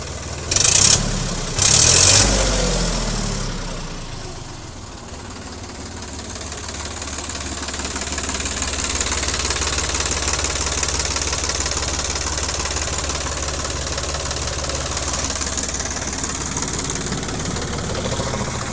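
A Sonalika 42 tractor engine runs with a low, steady diesel rumble that swells as it is revved, heard up close. A couple of brief louder bursts come at the start, and there is no talking.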